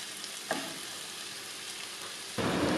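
Bell peppers and other vegetables salted with a teaspoon of salt sizzle and fry in a pan while they soften. A steady hiss runs throughout, with a light stir early on and a louder burst of sizzling at the end.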